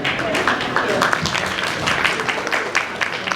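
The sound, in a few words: audience clapping for speaker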